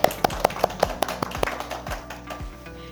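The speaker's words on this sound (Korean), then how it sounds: "저희 이제 6기 에이블러 분들을 위해서 환영의 박수 한번 치면서 시작해 볼까요?" Welcoming applause at a KT Aivle School recruitment briefing, heard as a few quick, sharp claps in a short uneven burst, close and fairly dry, fading into a lighter scattered patter.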